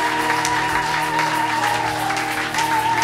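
A church congregation claps together in a sustained, even burst of applause, fairly loud and close, while a steady tone, likely from music or a sound system, hums beneath it.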